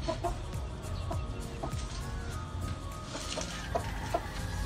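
Young Sweater Escolin line gamefowl chicks cluck in short, soft, repeated calls scattered over a steady low outdoor background.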